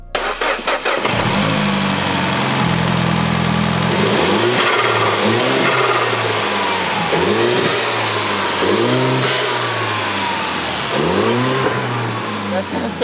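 Mini Cooper S with the N18 engine cranks over, catches and settles, then revs in repeated rising blips close up, with a person talking briefly over the engine.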